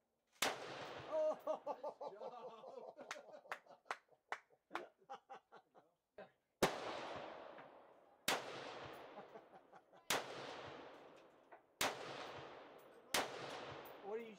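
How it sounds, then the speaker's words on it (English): Shotguns fire at clay targets outdoors: a quick run of fainter pops first, then five loud, evenly spaced blasts, each ringing out with an echoing tail. "What are you shooting, bud? Clays."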